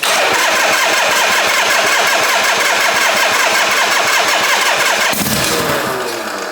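A Harley-Davidson Shovelhead motorcycle engine, fitted with carburettors and a generator, runs loud and close with a rapid, loping firing rhythm, then a sharp change near the end as it settles lower.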